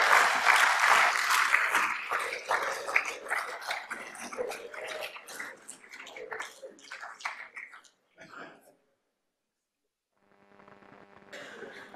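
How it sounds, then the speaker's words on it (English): A round of applause for a Consul General as he takes his seat at a gathering, dense clapping that thins and fades out near eight seconds, followed by silence and then a faint tonal hum. "give your Consul General a round of applause as he takes his seat"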